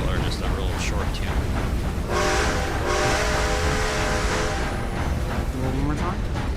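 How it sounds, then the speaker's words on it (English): A steam train whistle sounds in the video game Red Dead Redemption, a loud, bright harmonic blast lasting about a second that trails into a longer, fainter tone, heard over steady rail rumble and talking. "So when I blow the whistle, do you hear a long whistle or just a real short tune?"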